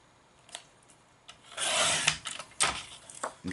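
Scissors or a blade cutting through a paper clock template, a few soft rustles, then a longer scraping cut and short snips, close and quiet.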